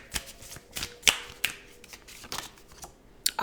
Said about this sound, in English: So let's go ahead and get a couple more cards here.